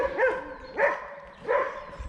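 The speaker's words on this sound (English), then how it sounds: "As we move away from that dog." Dog barking three times on a New Forest woodland walk, evenly spaced, moderately near barks with a slightly whiny tone, heard alone against a quiet outdoor background.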